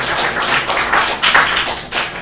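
An audience applauds in a council chamber during a town hall meeting, giving a short, dense burst of hand clapping that rises and falls without voices over it.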